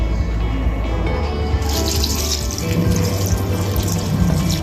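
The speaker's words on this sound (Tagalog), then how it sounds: "buhos natin yung pangalawang piga" Second-press coconut milk is poured into a pot while laing is cooked, a continuous close liquid splashing and trickling that brightens partway through and runs steadily without talk.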